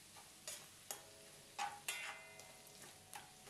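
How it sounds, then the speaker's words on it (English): Ginger strips stir-frying in oil over moderate heat, giving a soft steady sizzle broken by several sharp scraping clicks of the spatula stirring the pan, fairly quiet and with no voices. "Stir to fry it for about 4 to 5 minutes or until crispy and golden brown"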